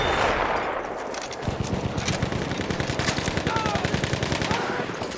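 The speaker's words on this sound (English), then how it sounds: "There! Enemy machine gun!" Rapid, steady bursts of enemy machine gun fire ring out in a Battlefield 1 team deathmatch on the Achi Baba map, loud and close. The rhythmic chatter runs for several seconds over a busy battlefield din.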